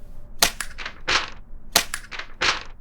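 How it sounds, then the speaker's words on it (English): Paper pickup and put-down effects in a Godot horror game, two crisp bursts of rustling crinkles, each a quick cluster of sharp snaps, close and loud with silence between. "when we pick up and put down the paper, the sound plays."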